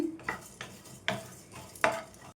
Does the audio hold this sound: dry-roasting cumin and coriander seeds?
yes